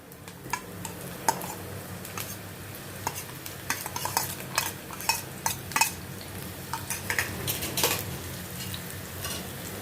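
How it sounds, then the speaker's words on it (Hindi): Finely chopped onion sautés in a pan under a soft, constant sizzle, broken by frequent sharp scrapes and clicks of a spoon stirring against the metal. "इसको मैं थोड़ा सौते करती हूँ"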